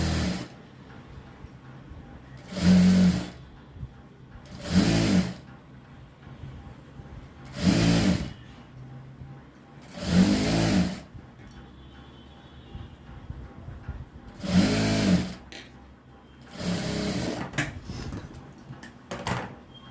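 A sewing machine stitches blouse fabric in short bursts, about six brief runs of buzzing stitching separated by quiet pauses of a couple of seconds.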